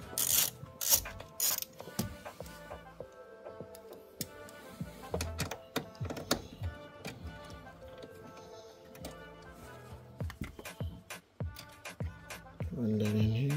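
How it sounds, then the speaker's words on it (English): A hand ratchet fitted with a 10 mm socket backs a bolt out of a Honda CR-V during a fog light install, giving a steady close run of rapid clicking with a few thunks and pauses between strokes, no talking. "I'm just gonna take that bolt out, which uses a"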